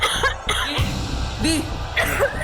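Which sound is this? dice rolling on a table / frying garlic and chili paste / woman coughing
woman coughing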